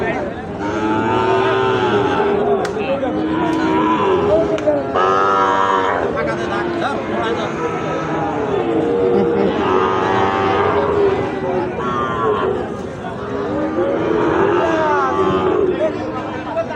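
Sahiwal bull calves at a livestock market moo repeatedly in long, loud, drawn-out calls, several overlapping, amid a crowd's steady hubbub and nearby chatter.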